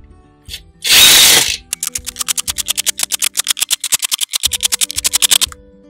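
Screws driven into a Starlink flat mount with a power driver: a loud whir, then a long, steady train of rapid ratcheting clicks, close by, with no talk.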